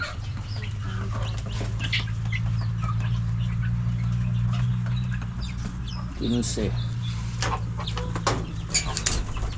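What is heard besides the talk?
chickens and roosters clucking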